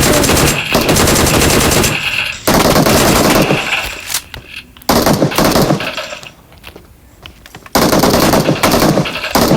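A video game firefight plays out in loud, rapid automatic bursts, several seconds long each, split by short quieter gaps.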